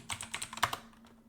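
Someone types on a computer keyboard in quick, soft keystrokes that tap at an uneven rhythm for about a second before trailing off.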